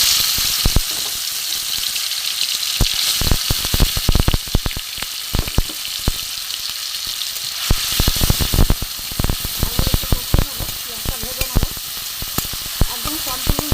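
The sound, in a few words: chopped tomato, onion and green chili frying in hot oil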